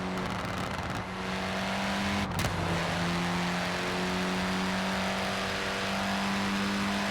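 A car engine from the Forza Horizon racing game, played on a Logitech G923 wheel, drones steadily at a high pitch. A brief sharp burst near the middle may be the car braking before the engine hum carries on, loud and continuous, with no speech.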